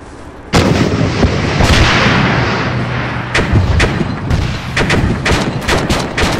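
Grenade launcher blasts and heavy gunfire from an Arma 3 battle, a dense run of loud overlapping booms and shots with sharp repeated bursts and no talking.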